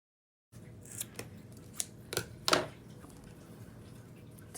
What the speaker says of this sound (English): So with my scissors, I'm just going to take this, go 1, 2, and start cutting.